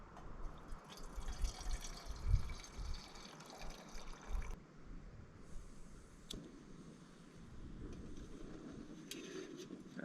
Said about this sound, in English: We'll drop some water in here.